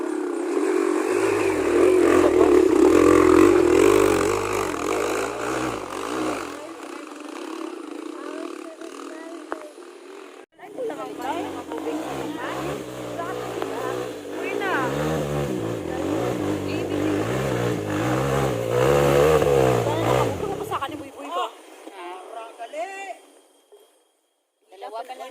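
Motorcycles from a ministry ride rumble and rev along a rural road toward a remote village in Palimbang, Sultan Kudarat. A brief gap breaks the engine noise, which then fades near the end, with some voices mixed in.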